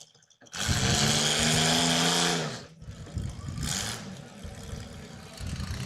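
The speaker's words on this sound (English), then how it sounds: "Now a true test of power. They just revving against each other." Demolition derby cars rev their engines against each other at an arena event in Mobridge, a loud, close, sustained roaring whine for about two seconds, then rougher, uneven engine noise and crowd rumble.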